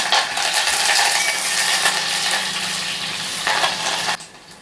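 Onion pieces and curry leaves frying in oil for an okra curry make a loud, close, crackling sizzle that runs steadily, then drops off abruptly near the end.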